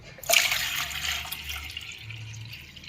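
A short splash of water being poured off soaked rice, followed by a gentle trickle and dripping, close and fairly quiet.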